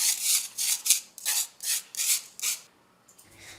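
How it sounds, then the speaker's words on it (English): A spoon or spatula rubs and presses flour lumps through a metal sieve in rhythmic scraping strokes, about seven close rasping passes, quiet and alone. "Use a spoon or spatula to press and crush any lumps that are still in the sieve."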